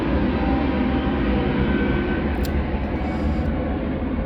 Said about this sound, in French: On va laisser passer l'avion passer.